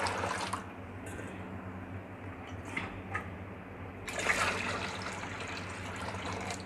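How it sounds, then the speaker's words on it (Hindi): Water streams and splashes into a bowl of mixed lentils as about four litres are poured in, a steady close trickle with brief louder gushes, ending in a stronger pour. "इसके अंदर भी हम डाल देंगे 4 लीटर पानी।"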